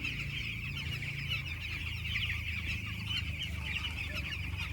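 A poultry farm holding about 2,100 young chickens gives off a continuous dense chorus of clucking and peeping, steady and moderately close throughout.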